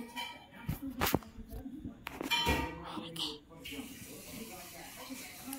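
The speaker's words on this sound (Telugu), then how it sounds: "మంచిగా కలుపుకొని మూత పెట్టాలి 5 మినిట్స్ వరకు." A metal lid set onto a cooking pot of amaranth greens and urad dal curry, with two bright clangs and ringing dings close by, then a soft simmering hiss.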